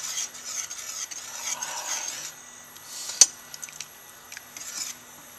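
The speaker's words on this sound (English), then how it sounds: "I've added the roux gravy we made up before to this. We're whisking it all in now." A whisk scrapes and stirs roux gravy into a shrimp étouffée in a pot, giving a soft, continuous rubbing and swishing with one sharp clink of metal against the pan.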